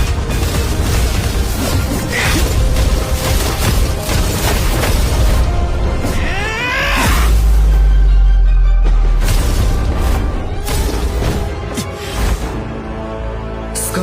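A fire bomb bursts in a dubbed Battle Through the Heavens anime scene, a loud deep boom with rumbling low end swelling midway through a dense, busy soundtrack of effects and music.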